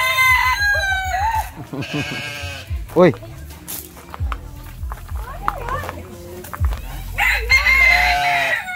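A rooster crows among bleating farm animals on a 10-hectare farm in Mendez, Cavite, with several loud, close calls while people talk and exclaim throughout.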